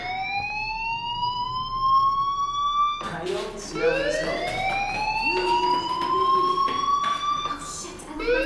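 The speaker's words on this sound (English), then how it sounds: "do you hear that fire alarm? That means you should be outside." A loud fire alarm wails in the Life is Strange video game, with rising siren-like sweeps that repeat steadily and fill the scene as a voice talks over it.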